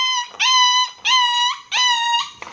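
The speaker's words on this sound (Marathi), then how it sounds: "कुत्रे ओरडायला लागले तिकडे" A dog howls three times in a row, each long, clear, wavering cry near and loud, separated by short pauses, with no talk over it.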